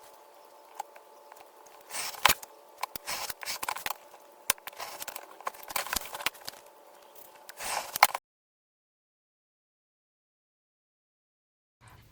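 Scissors trim fabric for a travel sling, making a run of close, soft snips and rustles for about eight seconds before falling silent.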